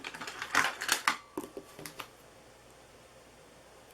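Corner rounder punching the corner of a folded paper reindeer treat box, a quick cluster of crisp, snappy clicks and crunches at close range, then a few fainter clicks before it goes quiet.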